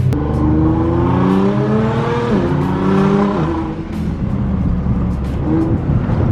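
A struggling Nissan GTR engine accelerating hard, its loud rising drone climbing through a gear change and rising again, close up and alone, with no talking.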